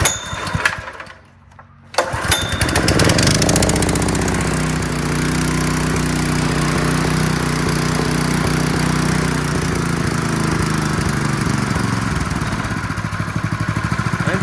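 A Tsurumi 3-inch trash pump engine fires up on the first pull, then runs steadily and loudly with a continuous drone across its throttle range, with no speech.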